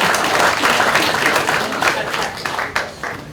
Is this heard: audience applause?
yes